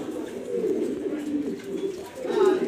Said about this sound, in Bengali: এটা নর কবুতর, এটা নর কবুতর, এটা মাদি।